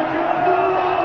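A stadium crowd roars and cheers steadily at a Pakistan Super League cricket match as Lahore Qalandars beat Karachi Kings in a super over with a winning six, a dense, continuous wall of voices throughout.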